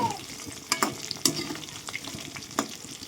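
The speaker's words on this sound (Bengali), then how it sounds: "উল্টে পাল্টে কিন্তু ভালো করে ভেজে নিতে হবে।" Chicken pakora fries in hot oil with a soft, continuous sizzle, broken by several sharp clinks and scrapes as the pieces are turned in the pan.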